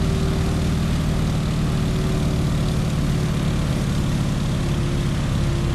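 Steady, loud drone of a propeller aircraft engine at cruise throttle with the prop pulled back, simulated in Microsoft Flight; a continuous low hum with an even, unbroken tone and no talking.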